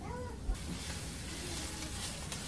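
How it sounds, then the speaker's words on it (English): Onions sizzle and hiss steadily in a hot pan for a rice noodle and kale stir-fry, with a loud clatter of stirring near the start, close and continuous. "And stir frying the onions some more."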